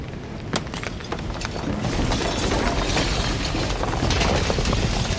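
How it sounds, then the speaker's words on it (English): Shattering effect from the game Slay The Princess: a loud, dense crackle of breaking and grinding that swells and holds steadily, with a few sharp snaps near the start. "And then the shattering"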